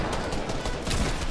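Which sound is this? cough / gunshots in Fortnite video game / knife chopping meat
gunshots in Fortnite video game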